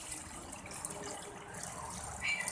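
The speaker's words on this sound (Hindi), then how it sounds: "अब मैं इसमें यखनी डाल दूंगी।" Beef stock (yakhni) pours into a cooking pot for beef pulao, making a steady watery splashing and trickling close by that continues throughout.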